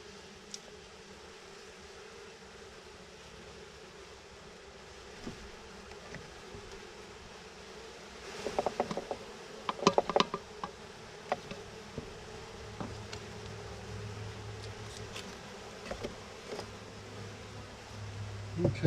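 Honeybees buzz around a nuc package as it is installed, a faint, steady hum of many insects with a few louder close passes and handling clicks partway through.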